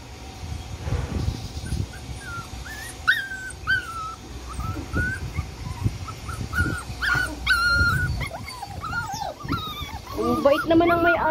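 Abandoned puppies dumped in a vacant lot whimper and yip in repeated high cries, close by, while people talk over them throughout.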